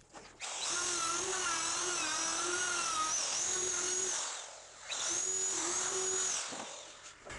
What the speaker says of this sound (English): I'm going to route these off